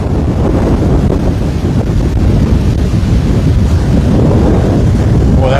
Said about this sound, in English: that wind just really picked up